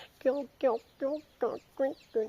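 A chick gives six short, evenly spaced cries, close and clear against a quiet background.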